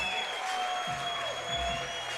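A crowd at a bouldering competition final applauds a climber, a steady wash of clapping and cheering held at an even level throughout.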